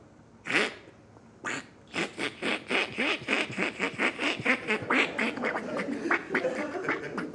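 A human voice imitates a duck feed call, starting with a couple of separate quacks and then running into a fast, rhythmic chatter of clucking quacks, close and moderately loud with no other speech.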